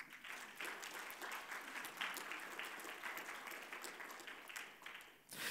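Sustained clapping from an audience at an awards and thank-you ceremony for sponsors holds at an even level, then dips briefly and swells again near the end.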